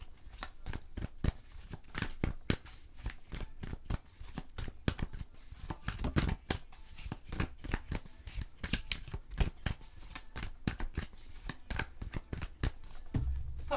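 Tarot cards shuffled by hand in a steady, unbroken stream of soft, papery slaps and riffles, up close and quiet, with no speech.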